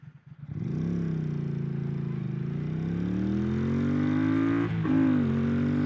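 A Triumph Thruxton 1200 motorcycle with Vance and Hines exhausts revs up close by, its engine pitch climbing steadily and smoothly toward the redline, with one brief dip near the end before rising again.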